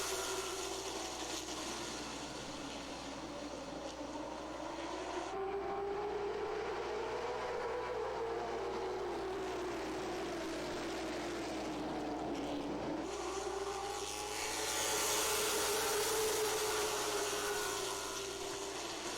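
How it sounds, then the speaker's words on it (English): Late model race cars racing at Langley Speedway, a pack of engines roaring past with a rising and falling drone, a loud surge near the end, no voices. "We are set for race number 2 for the late models. Green flag is out. We are underway."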